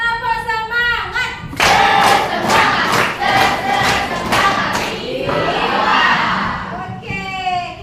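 A classroom of children performs a 'tepuk semangat' spirit clap chant, loud group shouting with sharp rhythmic claps and thumps, framed by an adult teacher's voice talking before and after.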